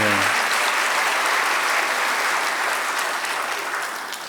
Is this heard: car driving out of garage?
no